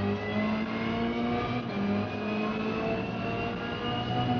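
A racing car in the Forza racing game launches at full throttle in a first-person online race, its engine a loud, steady drone that climbs slightly in pitch throughout.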